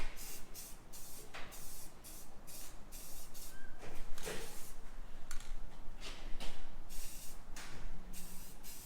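Spray paint hissing onto a welded folding chair storage rack outdoors in bright sun, in repeated short bursts that start and stop steadily, close by and fairly quiet.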